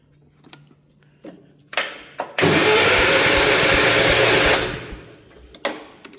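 Gravely walk-behind tractor engine, an 816 being built into an 812, cranks loudly for about two seconds after a couple of short clicks, then stops without catching.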